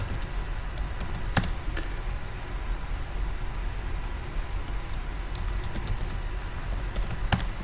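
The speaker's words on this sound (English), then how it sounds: "and type your password." A password is typed on a computer keyboard in a few sparse, close key clicks over a steady background hum, with a small cluster of presses near the start and the end, and no speech.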